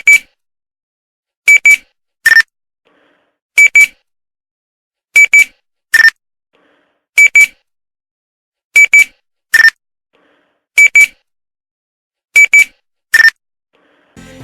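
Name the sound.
Nextel phone chirp beep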